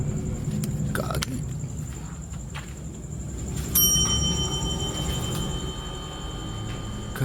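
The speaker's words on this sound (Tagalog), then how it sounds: "tumutunog yung bell" A small bell rings with a sustained high, clear tone over a steady low rumble of background noise, a brighter strike coming partway through, in an abandoned resort in Concepcion, Tarlac.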